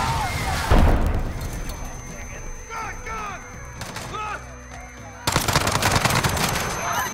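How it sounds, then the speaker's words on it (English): Explosion and gunfire in Call of Duty: Modern Warfare, a van blast in Piccadilly followed by fog and shooting; dense bursts of game combat noise with booms and rapid fire, loud at the start and again near the end, under narration. "This causes a massive explosion."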